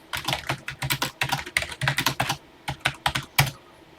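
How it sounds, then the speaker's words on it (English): Rapid typing on a computer keyboard, close and crisp, in irregular bursts of keystrokes with a short pause midway and no talking. "I made a typo while typing touch typing tutor."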